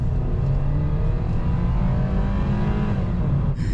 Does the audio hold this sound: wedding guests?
no